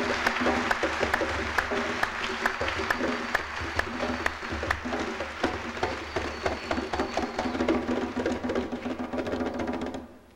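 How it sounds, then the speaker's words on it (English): An audience at a lecture on ancient African Egypt applauds, with sharp individual claps standing out over a sustained crowd wash, rhythmic and close, tapering off and ending abruptly near the close. "Can we give him again another round of applause?"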